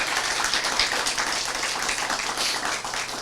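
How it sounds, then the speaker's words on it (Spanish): Congregation applauding at a Spanish-language church service, a steady, dense wash of many hands clapping continuously throughout, no voices standing out. "Dele un aplauso al Señor si está entendiendo."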